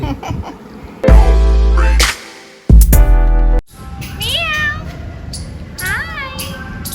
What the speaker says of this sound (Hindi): मैं इस बिल्ली के साथ भी खेल रही हूँ